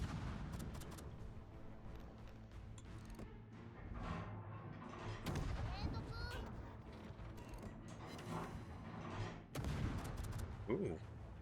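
Warship broadside gunfire in a naval battle video game: dense, rumbling cannon blasts and mechanical clanks roll on continuously with sharper bursts near the middle and end, with a voice speaking partway through.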